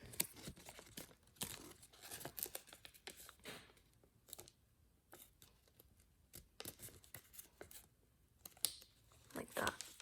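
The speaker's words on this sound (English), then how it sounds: "partially unfold it, and just kind of fold it over." Origami paper crinkles and rustles as it is partly unfolded and folded back over, a steady run of close, soft crackles and sharp creases with brief quieter pauses.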